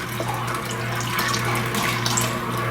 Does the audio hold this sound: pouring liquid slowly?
yes